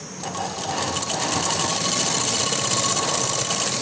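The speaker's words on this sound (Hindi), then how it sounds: "और हाफ इंच का माया लेते हुए सिलाई लगा लेंगे।" A sewing machine stitches a floral frock with a fast, even mechanical whirr and rattle, close and continuous, with no talk over it.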